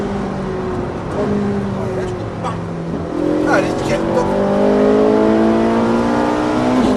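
A Ferrari 458 accelerates hard on a race track, engine note rising loud and close in long sweeping harmonics, while an instructor's voice talks over it in French.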